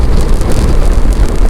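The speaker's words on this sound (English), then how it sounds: "all the bikes are literally swinging because of the huge gusts of wind." Strong wind gusts roar and buffet while riding motorbikes, a loud, continuous rushing blast with no voices over the short stretch.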